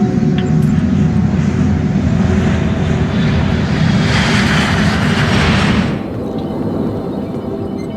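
Airliner engines roar steadily in flight, a loud, continuous broadband drone with a brighter rushing swell that fades near the end; the plane is Alaska Airlines Flight 261, a crippled jet with a jammed stabilizer, cruising at 32,000 feet.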